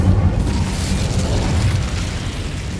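Incendio fire spell cast in Hogwarts Legacy, a loud whooshing burst of flame with a deep rumbling boom that roars steadily and fades slightly toward the end.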